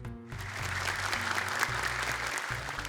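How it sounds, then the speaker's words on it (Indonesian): Studio audience applauding a group of children on an Indonesian kids' show filmed at Istiqlal Mosque, steady, full clapping sustained for a few seconds under faint music. "Tepuk tangan dong untuk mereka."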